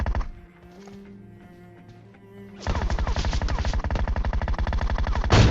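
A PUBG Mobile gunfight with Groza and M4 rifles: after a quiet stretch of soft tonal game sounds, loud rapid automatic fire erupts in a steady, even stream of shots that runs to the end.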